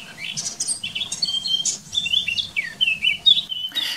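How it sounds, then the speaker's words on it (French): A warbler sings in bursts of bright, varied chirps and trills that rise and fall over a low, steady rumble of background noise, with a short break before the song resumes. "Sacrée chanteuse, cette fauvette."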